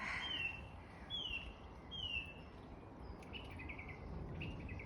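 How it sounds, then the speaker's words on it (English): Several birds chirp and whistle outdoors in short rising calls, fairly distant, over a soft steady background hum; no talking. "You can hear the birds."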